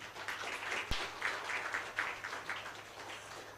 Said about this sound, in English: I want all of you to give a loud applause to our judges